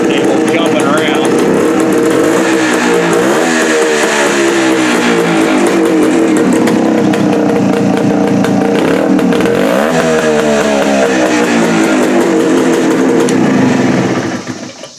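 A 1974 Suzuki TC 185 motorcycle engine runs close and loud after a carb adjustment, its buzzing note rising and falling through repeated throttle revs before cutting off abruptly at the end.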